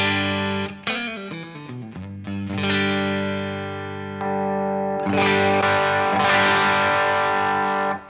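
A distorted electric guitar with Fishman Fluence pickups rings out alone, loud and close, playing a few picked notes before settling into heavy, sustained, saturated chords.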